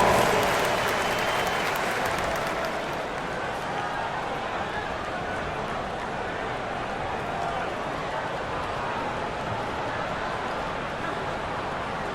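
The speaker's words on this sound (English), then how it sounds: "Give yourself a round of applause." Crowd applause and arena noise in the NBA 2K25 video game during a 76ers versus Spurs matchup, a loud burst at first that settles into a steady roar with a commentator talking over it.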